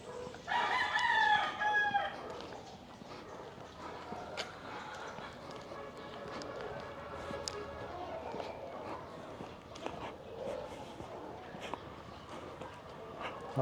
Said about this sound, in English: Oh, look at these chickens.